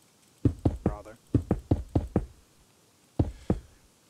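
Blocks being placed while building in Minecraft, a string of short hollow knocks in quick irregular bursts, about six close together, then two more after a pause, fairly loud and alone.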